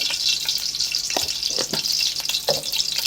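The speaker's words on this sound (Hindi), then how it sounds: "जीरा ऐड कर दूंगी 1 चम्मच" Cumin seeds sizzle and crackle steadily in hot ghee, a loud continuous frying hiss with scattered stirring clinks of a spoon against the pan.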